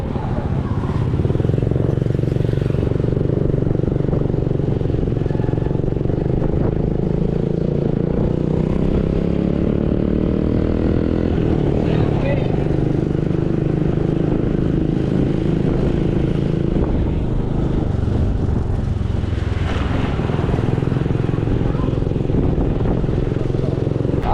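Honda XRM motorcycles passing on a road between Dalaguete and Mantalongon, engines droning and revving for a long stretch as vehicles go by, with faint talk underneath.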